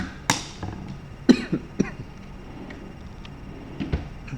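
Several short coughs, one early and a cluster of two or three a second later, then another faint one near the end, fairly close with quiet room noise between.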